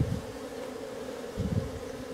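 Honey bees buzz steadily inside an open hive as a new queen is installed and frames are pushed together, a close, continuous drone with a slight swell near the end and no talking.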